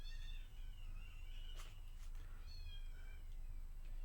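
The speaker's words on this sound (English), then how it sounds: "That is a cat." Cats mating let out drawn-out, wavering yowls, several rising and falling cries over a low background hum, faint and recorded from a distance.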